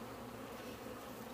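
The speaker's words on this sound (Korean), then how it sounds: "이렇게 이렇게 흑말벌이 지금 이렇게 돌아다녀요" Black hornets flying around a beehive, a low, steady buzzing drone that stays faint and continuous throughout, with no speech.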